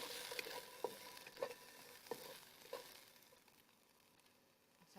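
Spring onions go into a hot pan for pad Thai, giving a soft sizzle with several faint metallic taps or scrapes at roughly regular intervals, then the frying noise fades to a low hiss.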